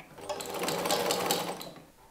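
A sewing machine stitches fabric for a Halloween pumpkin basket, a close, rapid whirring run of needle strokes that swells and then fades over about two seconds.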